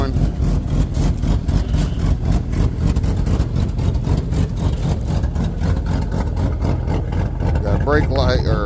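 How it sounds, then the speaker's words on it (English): An LS-swapped OBS truck engine running with an exhaust leak, a loud, steady, close rumble with rapid ticking pulses throughout, and a voice speaking near the end. "as y'all can hear, we have a exhaust leak."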